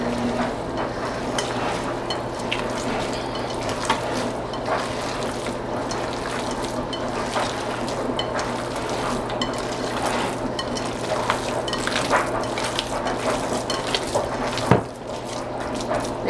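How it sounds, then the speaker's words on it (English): Italian meatloaf mixture worked by hand in a pan, a continuous close squelching and wet slapping with soft sticky clicks over a low steady background hum. "just get in here and start mixing away"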